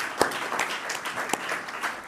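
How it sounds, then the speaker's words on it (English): Audience applause at a think tank event on a Morocco–Korea partnership, a steady patter of many hands clapping throughout with a few sharper claps standing out. "I think they deserve a round of applause."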